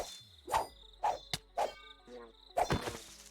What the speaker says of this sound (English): they make a bee noise when you hit them